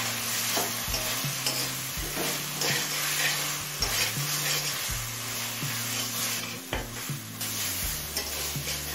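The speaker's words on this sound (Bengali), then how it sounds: "এবার এতে আলুটা দিয়ে দিচ্ছি" Potatoes fry and get stirred in a spice masala over high flame for a fish curry, steady sizzling with repeated scraping strokes of a spoon against the pan, close and fairly loud, no talking.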